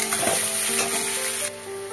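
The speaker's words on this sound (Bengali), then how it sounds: "এবার ভালো করে একটু ভাজা ভাজা করবো।" Potato, onion and green chilli fry in a pan with a loud, steady sizzle and the scrape of stirring close by, the hiss easing slightly near the end.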